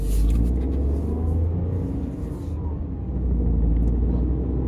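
Tata Tiago iCNG AMT car driving on a highway, heard from inside as a low, steady engine and road rumble with a slight swell as it speeds up.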